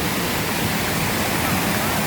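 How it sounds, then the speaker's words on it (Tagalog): Water pouring steadily at Silvermine Waterfalls in Mui Wo, a dense, even rushing roar heard close and loud without break for the whole moment. "Pakinggan natin ang ganda ng tunog ng tubig guys."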